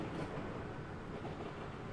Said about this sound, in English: The rhythmic trumping of its chugging along down the tracks must have caused you to nod off